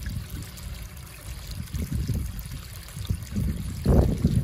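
A backyard waterfall spills back into a pond with irises and algae, giving a steady close trickling and splashing, with a slightly stronger surge near the end and no talking.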